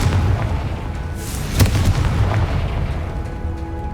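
A Confringo blast spell cast in Hogwarts Legacy inside a cave near Irondale, a single sharp explosive crack rising out of a steady, loud rumbling bed of game ambience.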